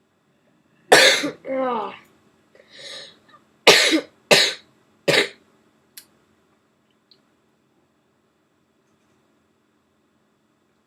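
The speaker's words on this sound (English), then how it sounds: "These coughs are horrible." Harsh, close coughing fits, a long burst and then several sharp short coughs in a row, mixed with a groan, after which everything falls silent.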